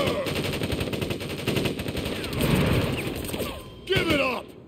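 Troops in Crisis Core: Final Fantasy VII open fire with rapid, rattling automatic gunfire that runs steadily under game effects and action, rising in bursts toward the end.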